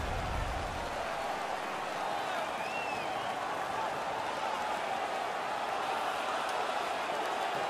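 Home crowd in an NHL 16 hockey video game, a steady, dense roar of cheering and applause that holds at an even level from start to finish, with some voices mixed in.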